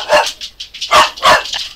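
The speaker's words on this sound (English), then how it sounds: "We have a little bark alert, so I do apologise" A dog barks in loud, close, sharp bursts, three main barks with smaller yips between, with no talking over it.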